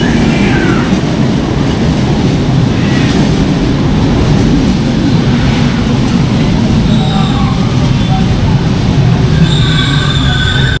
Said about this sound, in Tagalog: Masakay na tayo ng LRT ngayon